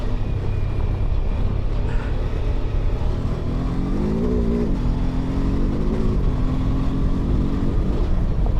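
A BMW F 450 GS Trophy motorcycle engine running while riding, a loud continuous drone mixed with wind rush, its pitch rising and wavering midway, with no voices.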